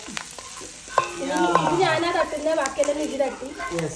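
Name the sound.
stirring prawn pickle masala in a frying pan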